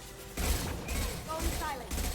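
Gunfire in the video game Mass Effect 2, several bursts of rapid shots and booming impacts in clusters, mixed with mechanical effects and voices talking over the action.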